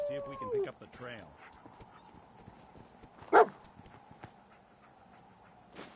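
Dogmeat, the dog companion in Fallout 4, gives a whining howl followed by short sniffs and a sharp bark amid game ambience, with footsteps and a voice speaking.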